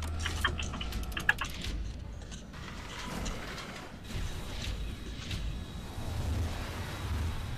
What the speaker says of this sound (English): I am typing with Max right now to see if he can get back in.